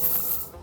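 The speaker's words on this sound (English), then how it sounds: "Someone else want to spray that one?" A short, soft hiss of chocolate being sprayed onto a chocolate replica of Lando Norris' racing helmet, fading away within a second.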